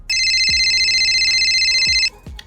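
A phone rings loudly on an incoming call, one sustained electronic ringtone burst lasting about two seconds, with soft thumps around it.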